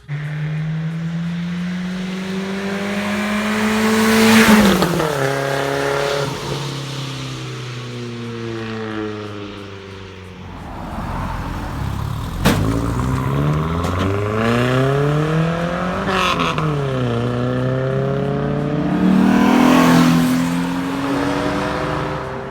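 A 1992 Nissan Hardbody truck with a stock manifold, 2.5-inch custom piping, a Vibrant resonator and a MagnaFlow muffler revs up close and loud, with repeated rising and falling engine sweeps and no talking.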